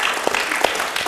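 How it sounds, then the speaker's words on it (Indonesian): A short burst of applause from a crowd, steady clapping at moderate volume with no voices over it. "Tepuk tangan."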